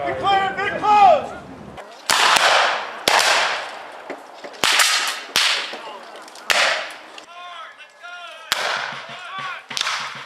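Gunfire at a Civil War reenactment: several sharp, loud reports spaced a second or two apart, each with a ringing tail, with shouted commands and voices between shots.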